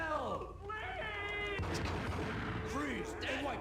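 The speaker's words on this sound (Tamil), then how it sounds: "இங்கே ஏதோ துப்பாக்கி சூடு சத்தம் கேட்குது." Gunfire in the video game Max Payne booms through the game's soundtrack, with rumbling shots layered under swirling music tones and a voice speaking over the mix.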